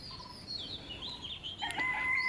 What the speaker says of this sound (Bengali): পাশে বাসায় মোরগ ডাকতেছে